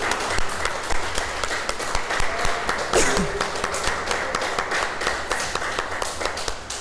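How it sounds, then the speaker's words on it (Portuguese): A church congregation applauds together, continuous crowd clapping filling the space with crisp distinct hand strikes, while a voice briefly rises over it near the middle. "Pode aplaudir o Senhor,"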